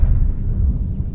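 Low, rumbling thunder or explosion effect in a vintage radio drama, a brief, heavy continuous rumble with no voices over it.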